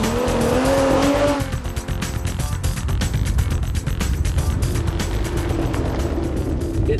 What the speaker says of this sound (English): It's an Aston Martin DB6 Mark II.